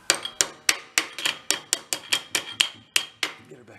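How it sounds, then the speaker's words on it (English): A hammer taps repeatedly on a part of a trashed engine from an engine-powered wagon, pressing it down to seat it: about fourteen sharp, evenly spaced metallic strikes, close and fairly loud, with no talking. "take like a hammer, try tapping on it to get it to seat"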